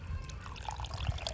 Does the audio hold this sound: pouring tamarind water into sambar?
yes